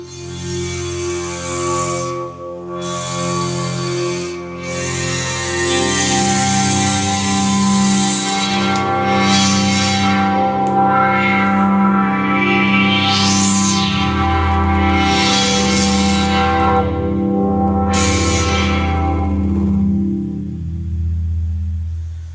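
A deep, glassy bowing-glass synth pad played via EWI in Ableton Live 8 swells with bowed, sustained tones and layered harmonics, washed in heavy reverb and echo, building into rich stacked chords.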